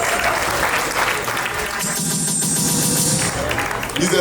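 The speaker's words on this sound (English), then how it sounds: "Give them a hand of applause." Crowd clapping and cheering at a graduation party for a new medical doctor, a loud sustained roar of applause with voices mixed in.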